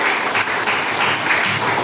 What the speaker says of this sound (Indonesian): Nah, tepuk tangan.